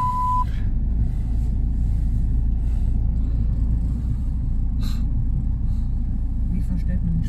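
A high-torque car idles steadily after starting, its deep, constant engine rumble filling the clip from close by, with a brief tone at the start and a voice speaking over it.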